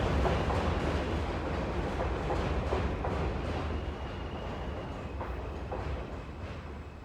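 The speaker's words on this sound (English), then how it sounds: "Plus the train comes by as I'm talking." A train rumbles past nearby, steady low roar with faint clickety-clack of wheels on rails throughout, no voices.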